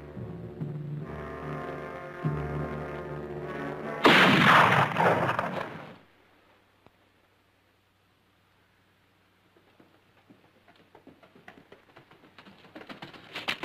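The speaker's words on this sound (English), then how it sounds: "Where did that shot come from?" A single sharp gunshot rings out in a TV western, a loud broadband blast that decays over about two seconds into near silence, preceded by a tonal musical score and followed by faint scattered clicks.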